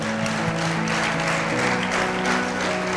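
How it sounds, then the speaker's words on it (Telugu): An audience at a talk claps loudly and steadily for three seconds, a dense, even burst of applause filling the hall without any speech. "గట్టిగా చప్పట్లు కొట్టండి."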